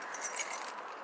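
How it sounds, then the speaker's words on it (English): A brief, faint metallic jingle of keys unlocking a library door at night, small clinks over a quiet background hiss. "I'm going to unlock the door."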